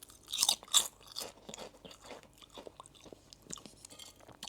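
Crunchy bites and chewing of Walkers tomato sauce crisps, close to the mic, with two sharp crunches near the start followed by softer, irregular chewing.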